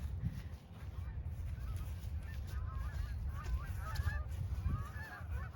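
Canada geese honk repeatedly outdoors, a flurry of overlapping calls over a steady background hum, with a few louder honks near the end.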